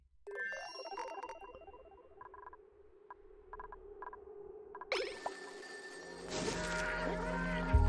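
An unanswered phone rings in the Oxygen Not Included video game, a series of repeated electronic ring tones in short regular bursts, followed by a brighter, busier game jingle.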